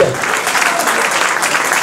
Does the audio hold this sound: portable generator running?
no